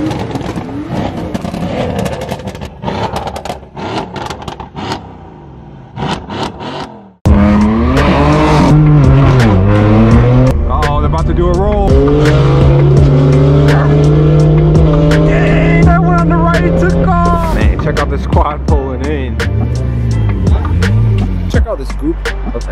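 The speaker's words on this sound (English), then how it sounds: "sounds like we got a rev battle" Straight-piped exhaust of a BMW M4 F82 revving hard in a rev battle with other M cars outside a Raising Cane's, loud and close: a quieter idle, then sudden sustained roaring revs with repeated sharp blips and throttle surges.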